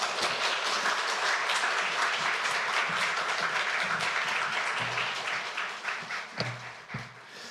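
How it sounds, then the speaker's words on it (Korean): A church congregation at a combined worship service gives hearty applause after a testimony, a dense wash of claps that gradually thins and tapers toward the end into a few scattered final claps. "힘차게 박수해 주셔서"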